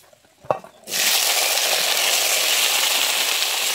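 Potatoes and eggplant drop into hot oil with a brief clatter, then a loud, steady broadband sizzle of frying fills the rest, close and continuous with no talk.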